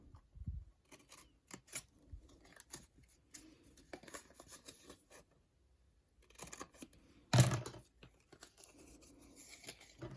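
Scissors snip the corners of a folded paper frame album in a few short, quiet cuts with brief pauses between them, plus one louder crisp snip near the end.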